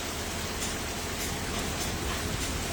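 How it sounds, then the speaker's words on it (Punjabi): Heavy rain with large, fat drops pours steadily in Tapa Mandi, a dense, even hiss that stays loud and unbroken throughout with no voices. "ਕਾਫੀ ਮੋਟੀ ਕਣੀ ਦਾ ਮੀਂਹ ਹੈ"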